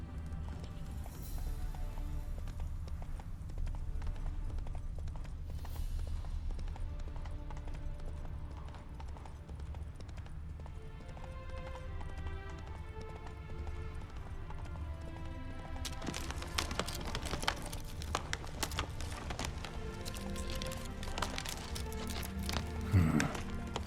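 A horse in The Witcher 3 trots with a steady clip-clop of hooves, moderately close, joined by a brief whinny and a busier, louder burst of game sounds toward the end.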